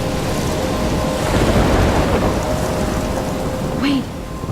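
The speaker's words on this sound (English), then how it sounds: "I'm trapped in a storm?" Steady heavy rain and rumbling thunder from a storm in the video game Life is Strange, loud and continuous, with a brief high tone near the end.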